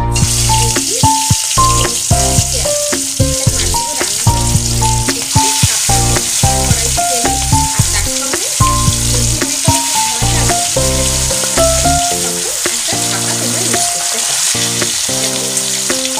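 Aar fish frying in hot oil, a loud, steady sizzle and crackle running throughout with busy popping spatter, close by and with no voices.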